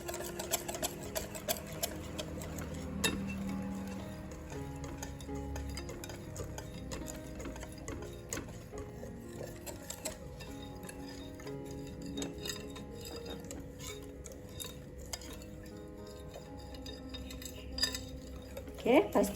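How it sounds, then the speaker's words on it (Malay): Durian pancake batter is stirred until evenly combined, making a continuous, quiet scraping and ticking of a utensil against the bowl in a home kitchen. "Okey, dan kita gaulkan sehingga sebati"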